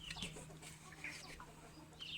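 Soft chicken clucks and chirps near a henhouse, a few scattered calls, faint and somewhat distant against a low steady hum.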